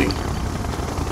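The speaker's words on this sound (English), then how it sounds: "Transporting siege chopper." Helicopter rotor drone of a siege chopper in Red Alert 2, a steady, dense whir filling the whole short moment without pause.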